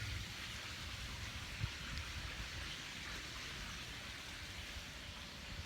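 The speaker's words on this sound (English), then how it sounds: "It's raining, so I can't really go out too far" Steady rain falls outdoors during a Florida thunderstorm by a lake, a soft continuous hiss of drops on surfaces, faint and even with no voices.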